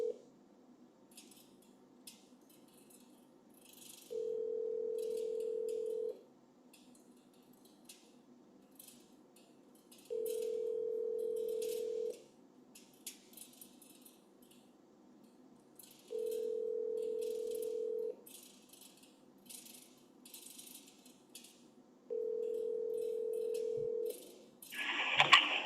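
An outgoing phone call ringing back: four steady ring tones of about two seconds each, spaced evenly roughly four seconds apart, clear and alone over a faint background hiss.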